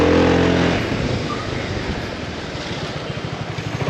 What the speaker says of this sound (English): Their take on their ABS, the slow pumping release.